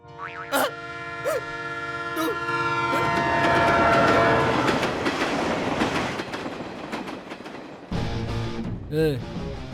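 A train passes during a dramatic film scene, its loud rumble and clatter building and fading alongside blasts of the horn and swelling background music.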